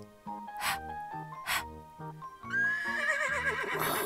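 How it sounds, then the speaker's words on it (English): A horse whinnies loudly in a toddler alphabet-learning piece: a few short snort-like bursts come first, then a long, wavering neigh that rises and falls and fills the second half. "Horse."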